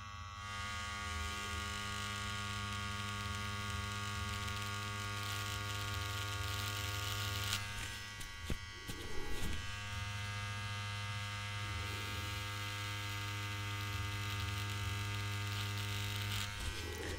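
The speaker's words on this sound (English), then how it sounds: "You can hear the breaking of the skin, and you can feel the resistance the skin provides." Tattoo machine needle working into human skin, a steady close buzzing drone with constant harmonic hum that holds throughout, briefly roughened midway, with no talk.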